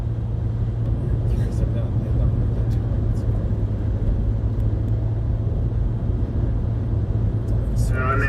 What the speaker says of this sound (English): Alright, so we're up to the trucks part of the convoy.